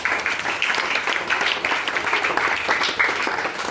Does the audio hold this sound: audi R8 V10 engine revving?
no